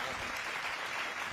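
Audience at a Hindi poetry recital breaking into a short burst of clapping, dense and close, with voices mixed in.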